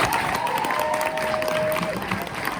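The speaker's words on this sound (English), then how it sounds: "let's give another round of applause for Chase." Lecture hall audience applauding and cheering for a speaker at a sex education talk, steady dense clapping with scattered voices throughout the short stretch.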